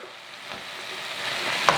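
Squid seasoned with salt and ground black pepper being stirred in a hot pan, a steady close sizzle with soft scraping strokes that build slightly toward the end, no voices.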